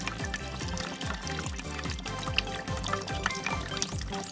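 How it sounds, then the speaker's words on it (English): Water pours in a continuous splashing stream with repeated gurgling bubbles, close and steady, over bright background music. "Should we pour some water?"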